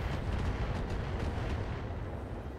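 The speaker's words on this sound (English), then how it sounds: "Are we going to fire both heavy PPCs? Yes" Heavy PPC weapons fired together in the mech video game RogueTech, a dense continuous roaring blast with deep low rumble and crackling texture, loud and sustained throughout without any speech.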